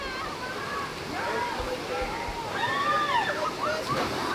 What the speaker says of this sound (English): Hoping these rapids are going to get splashed.